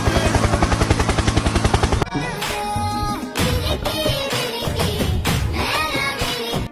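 A helicopter flies over elephants crossing the road, its rotor giving a fast, even thudding pulse for about two seconds before loud music takes over.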